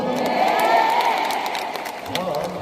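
Audience applause with cheering, a dense clapping roar that swells then gradually fades, with voices shouting in the crowd.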